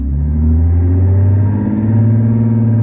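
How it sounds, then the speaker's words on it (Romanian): A 2022 BMW 7 Series G11 fitted with a Thor active exhaust, set to a Nissan GTR sound mode, holds a loud, deep, steady engine drone with a slight swell in pitch, close and continuous with no talk. "Fii atent acum cum sună partea de Nissan GTR"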